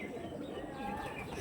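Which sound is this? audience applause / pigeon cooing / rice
pigeon cooing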